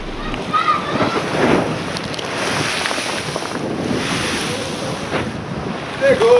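Waves from a slightly turbulent sea wash onto the fourth beach at Morro de São Paulo on Tinharé Island, a continuous surging hiss mixed with gusty wind noise, while a voice narrates over it.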